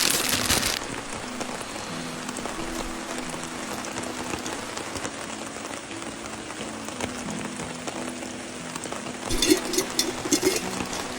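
Steady rain patters on surfaces outdoors at a fishing spot, a continuous close hiss with drops tapping, growing briefly heavier near the end.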